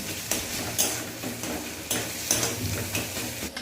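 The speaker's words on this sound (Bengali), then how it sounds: "বাটা মশলাটা এই তেলের মধ্যে দিয়ে দিচ্ছি মশলা দিয়ে ভালো করে তেলের সাথে মশলাটা মিক্স করে নিচ্ছি" Ground spice paste is stirred into hot oil in a village-style Malabar spinach dish, giving a close, steady sizzle with scattered spoon scrapes and ticking clinks against the pan. No one speaks.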